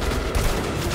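Dense gunfire in Metro: Last Light Redux during the final battle, loud and continuous bursts of shots with booming impacts filling the whole moment, no voices over it.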